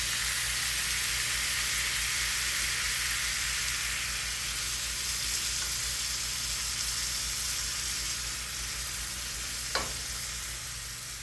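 Leftover bean soup liquid simmers with rice in a pan, giving a steady close hiss and sizzle that runs throughout, with one brief click near the end and no voices.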